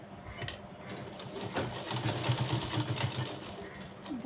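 A sewing machine stitches a hook strip onto a blouse in short bursts, its quiet rattling run close by with small clicks and pauses between passes.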